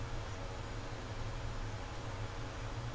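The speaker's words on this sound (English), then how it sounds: "there's the pink noise" A steady pink noise test signal plays through a budget studio microphone setup, a continuous broadband hiss, even and unbroken throughout.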